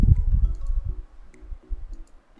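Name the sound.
computer mouse clicking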